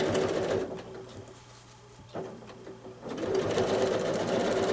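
Sewing machine running steadily during free motion quilting, travel stitching along a seam ditch in a basket block, a continuous close whir that slows briefly to near quiet mid-way before resuming at full speed.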